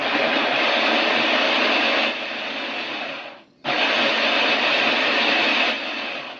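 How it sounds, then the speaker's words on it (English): A blender whirs loudly in two long pulses, blending chana masala ingredients, cutting out briefly between them and then roaring back, with no voices. "Yeah, in the blender, everything in the blender."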